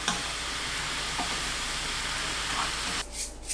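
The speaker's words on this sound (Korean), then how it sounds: "양념이 끓으면 팽이버섯을 넣고 재료를 골고루 볶아주세요." Enoki mushrooms stir-frying in a boiling spicy sauce give a dense, loud, continuous sizzle and hiss that suddenly thins to a softer bubbling near the end, with no voices.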